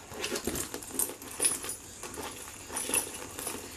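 Keys clipped to a Cles key holder tossed into a handbag, giving a few light metallic jingles and soft rustling knocks, close and fairly quiet, with no talking.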